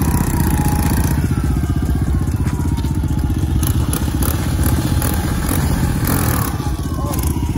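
A Honda XR100 dirt bike engine roars steadily and loud throughout a first-time wheelie attempt, with constant close buzzing and some clattering and scraping over it.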